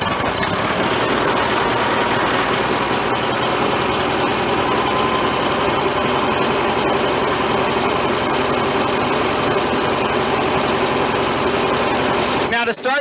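A 70-year-old Ferguson TO30 tractor runs from a cold start with its choke pulled out, settling into a loud, steady idle with a rough, throbbing rumble that carries on unbroken close by until it cuts off at the very end.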